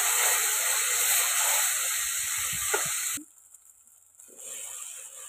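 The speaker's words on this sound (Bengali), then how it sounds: "অল্প পরিমাণে জল দিয়ে কষাতে থাকবো।" Soybean curry masala with ginger paste and a splash of water sizzles loudly and steadily in a pan for about three seconds, then drops sharply to a faint hiss before a moderate sizzle returns.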